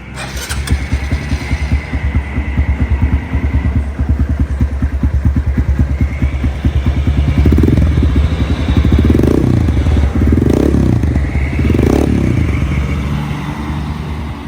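A Honda MSX motorcycle engine cranks and catches, then idles with a loud, close, steady throbbing putter, rising into several short throttle revs toward the end.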